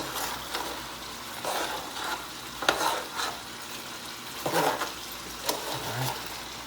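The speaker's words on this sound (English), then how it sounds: "I'm just gonna give this a stir" A spoon stirring Jamaican oxtail pot roast in a pot, a series of scraping, clattering strokes against the pot over a soft sizzle, close and moderately loud, with irregular bursts of activity.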